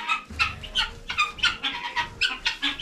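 Chickens cluck in a rhythmic series of short, nasal calls close by in a coop with fresh bedding, steady and moderately loud with no talk.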